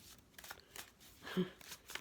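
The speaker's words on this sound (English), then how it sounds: "So I'm just going to shuffle these now" A deck of tarot cards is shuffled by hand in a brief, soft riffle of papery flicks and rustles, close and fairly quiet.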